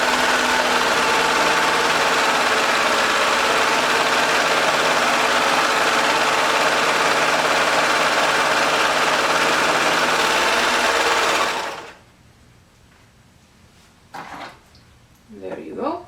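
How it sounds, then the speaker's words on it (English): A serger sewing machine stitching a sweater sleeve seam, a loud continuous whirring drone for about eleven seconds that stops abruptly, followed by a few faint handling sounds. "it will be a little more difficult for your serger, so go extra slow on that area"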